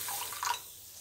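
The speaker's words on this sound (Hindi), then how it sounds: "ये देखिए मैं इसमें 1 कप पानी डाल दूँगी।" Water is poured into a pan holding coffee and tea leaves, a short, close splashing rush that fades within a second.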